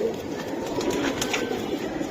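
Pigeons at a seller's stall coo in a steady low murmur throughout the short stretch, a continuous soft burble with no talk over it.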